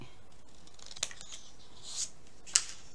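Scissors snip paper for a Halloween collage page: a few quick, crisp cuts near the mic, at three separate moments, against a quiet room.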